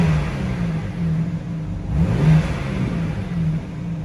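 A 2023 BMW M3 engine revs with its stock exhaust valves closed, giving a loud, steady low rumble with a brief rising rev swell midway before settling back.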